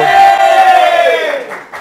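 A studio audience on a Brazilian television show roars with sustained cheering and shouting, a loud dense crowd swell that slowly fades near the end.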